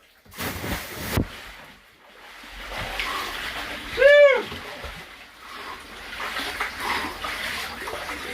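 A single splash as someone plunges into a 1500-gallon tank of ice water, followed by the ripple and wash of water, with a short voiced sound just before.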